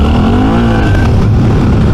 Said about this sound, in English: Clutch is definitely slipping.